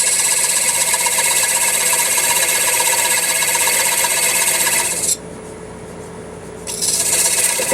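A shop-made parting tool cuts into mahogany spinning on a lathe, a loud, continuous rasping scrape that briefly drops away near the end before the cutting resumes.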